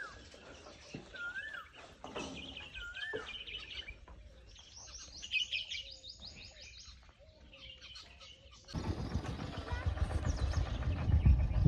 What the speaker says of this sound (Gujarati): જો કોયલ આવી ગઈ ત્યાં મોર.